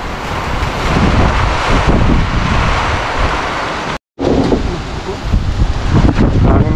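Strong, storm-like wind roars across the microphone in loud, continuous buffeting gusts, with a brief dropout near the middle, then keeps blasting.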